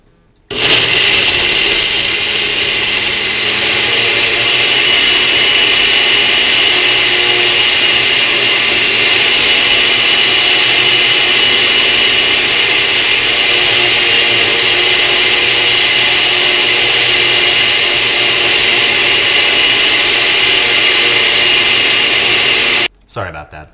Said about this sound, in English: the blender is kind of loud